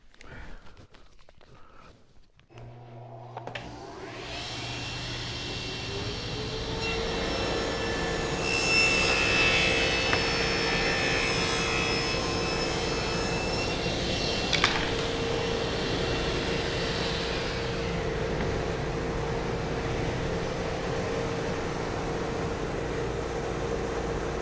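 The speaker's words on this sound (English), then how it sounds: "I'm going to cut a 45-degree angle on the board" A power saw cutting a 45-degree angle on a wooden board for a French cleat, starting with a click, spinning up to a steady loud whine and holding through a long continuous cut.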